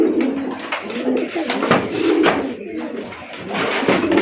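Raj Golla pigeons cooing in repeated soft, throaty rolling calls that overlap one another close by, with steady murmuring through the whole stretch.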